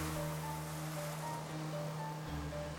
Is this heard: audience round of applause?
no